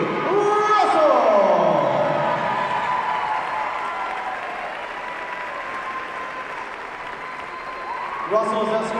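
Crowd applause at a women's college basketball game during senior-day introductions, sustained clapping and some cheering filling the gym for several seconds while an announcer's voice carries over it at the start and a tone sounds near the end.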